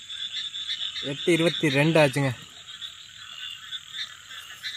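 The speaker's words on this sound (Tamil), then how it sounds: "நல்லா சுற்றி தவளையும் கத்த ஆரம்பிச்சிருச்சுங்க." Frogs croak steadily around a boat house on a dark night, a continuous high chorus running throughout while someone talks briefly in the middle.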